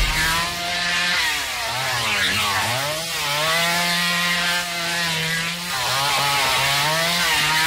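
A chainsaw revs in The Texas Chain Saw Massacre video game on Xbox Series S/X, a loud, continuous buzzing drone whose pitch rises and falls in repeated surges, with no talk over it.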